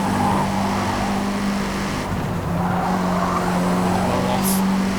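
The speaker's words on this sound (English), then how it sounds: "car behind us having a crash" A race car crashes behind the player in Forza Motorsport, with loud continuous engine drone, tire skidding and scraping noise throughout, and a brief dip in the roar midway before it surges again.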